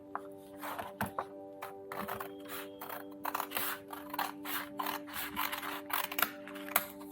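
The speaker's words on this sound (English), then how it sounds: "So with the help of a scissor, we'll cut it." Scissors snip through a sheet of paper for a 3D Christmas tree craft in a rapid series of close, crisp cuts, with a steady low hum underneath and no talk.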